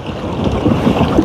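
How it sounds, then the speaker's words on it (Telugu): Boat bouncing over sea waves, a loud continuous rush of wind and water with dull thumps from the hull, close and without talk. "ఈ వేవ్స్ వల్ల బోట్ ఎగురుతుంది"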